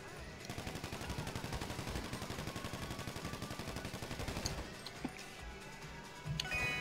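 Rapid automatic gunfire in GTA Online rattles in a fast, steady burst of repeated shots, then eases into scattered impacts and rumble, all moderately loud and heard alone.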